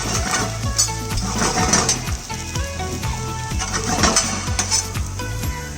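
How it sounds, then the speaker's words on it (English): Turmeric being stirred into sizzling powdered masala in a pan, a steady loud sizzle with repeated scraping stir strokes throughout, no voices. "We'll just add little bit of turmeric and mix it."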